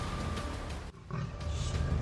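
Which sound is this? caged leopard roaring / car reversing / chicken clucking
caged leopard roaring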